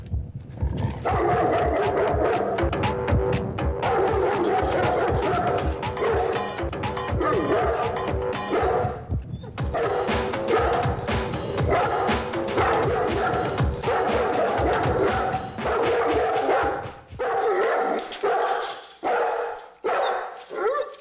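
Dogs meet each other with near-continuous loud barking, yipping and some whimpering over about twenty seconds. Several voices overlap at close range, with only brief lulls.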